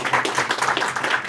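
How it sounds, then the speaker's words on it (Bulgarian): Audience applause at the official launch event of a quantum technology society in Sofia, a steady dense patter of many hands clapping throughout, fairly close and even in level. "Аплодисменти,"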